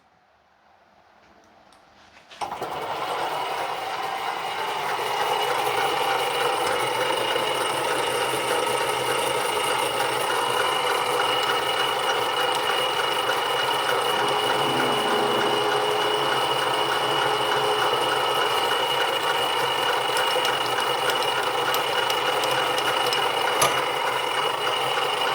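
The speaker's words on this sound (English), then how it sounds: "Now we can drill our hole." A drill bores a hole in a workpiece on a small Little Machine Shop lathe, with a steady whirring motor hum and faint rattle running continuously and close by after the machine starts up.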